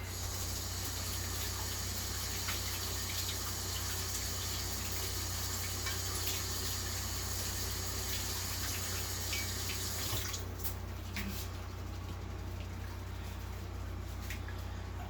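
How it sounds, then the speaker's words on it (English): Water runs steadily from a kitchen tap during hand washing, a constant close hiss and splash that shifts in tone near the end as the flow changes. "I'm going to wash my hands real quick"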